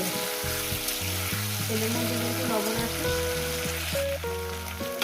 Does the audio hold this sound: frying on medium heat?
yes